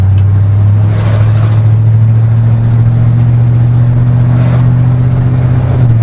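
A car engine drones loud and steady from inside the cabin, its low hum rising slightly as the automatic transmission moves through the gears, with no voices heard.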